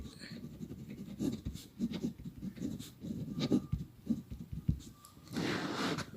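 Pen strokes scratching across paper while a geometry construction is drawn, a parallel line for a triangle proof, giving repeated close, dry scraping bursts with short pauses between them.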